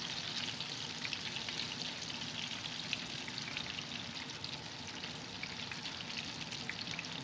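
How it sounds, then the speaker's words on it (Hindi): Fish fries in hot oil with a steady, continuous sizzle and crackle, fairly quiet and close, with no voices over it. "फिश हमारा ज़बरदस्त फ्राई हो चुका है"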